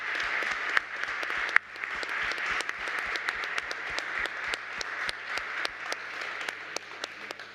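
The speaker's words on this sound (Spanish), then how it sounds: "Por favor, un aplauso." Audience applause after a panel session on the social and ethical impacts of AI, a steady wash of many hands clapping with distinct sharp individual claps standing out, sustained and fairly close throughout.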